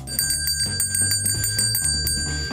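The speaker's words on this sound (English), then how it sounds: "Today, volunteers ring bells in every state" Hand bell rung by a volunteer at a red kettle charity collection, bright metallic strikes repeating in a rapid, fairly even rhythm, moderately loud above a low background bed without speech.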